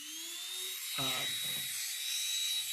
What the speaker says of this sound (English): flex shaft or my micromotor with a little sandpaper disc on it, and I'm going to just go all the way around.